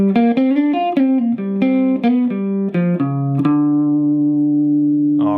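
An electric guitar plays a blues lick slowly, about a dozen distinct picked notes with bends stepping downward before a final note rings out and sustains, loud and close with no talking.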